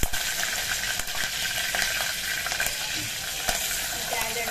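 Curry leaves and cumin sizzling in hot oil: a close, loud, steady crackling fry with a few sharp pops and light stirring clinks.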